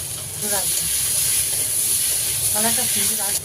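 Ginger paste, green chillies, roasted cumin-coriander powder and Kashmiri chilli powder fry for a pumpkin and pointed gourd curry, giving a steady bright sizzle and hiss with a voice speaking faintly underneath.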